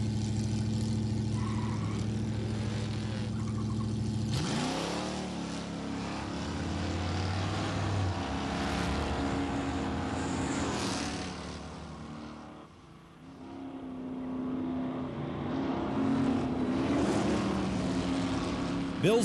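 At a 1992 factory-stock muscle car drag race, a Buick 455 and other big-block cars roar from a distance. Engine tones rise sharply as they accelerate, fade, then surge again in a second throaty run.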